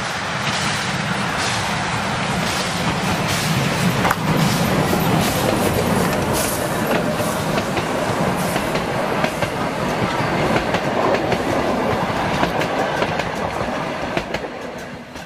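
A narrow-gauge steam train on the Harzquerbahn rumbles steadily past, with rhythmic clacking of wheels on rail joints and constant loud rolling noise throughout.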